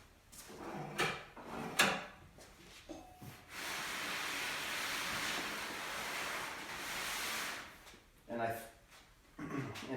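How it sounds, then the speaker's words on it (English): A drawer is pulled out of an IKEA kitchen cabinet and slid free, giving a long rushing slide with thumps and knocks around it, close by, with a person talking before and after. "So I'm gonna just take this drawer out."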